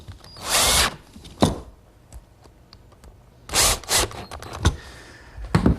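Power drill driving screws to fit a strap hinge at the joint of a wooden library ladder: two loud whirring bursts close by, each followed by sharp knocks and clicks of handling, with quieter tapping between.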